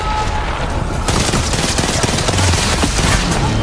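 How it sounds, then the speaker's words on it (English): Rapid gunfire in Apex Legends during a competitive ALGS match, including RE45 pistol fire, comes as loud, dense bursts of shots layered over game noise, with no clear talk. "Strafing Flame trying to thread the needle with this RE45"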